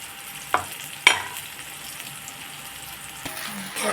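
Onion and tomato sauté in a pan for a Malvani white pea usal, a steady soft sizzle broken by a few sharp clinks of a spatula against the pan.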